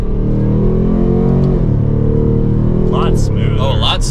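A 2024 Ford Mustang GT Premium V8 pulls in second gear, a loud, deep engine drone rising steadily in pitch, with people talking inside the car over it.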